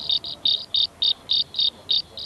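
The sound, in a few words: cicadas chirping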